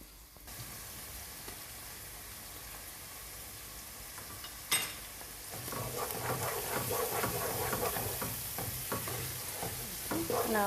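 Spices for an okra masala curry fry in a pan with a steady sizzle that swells louder midway, with stirring scrapes and crackles over the hiss and no talking.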